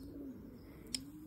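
A racing pigeon gives a soft, low, rolling coo, quiet and close, followed by a brief high chirp-like sound near the end.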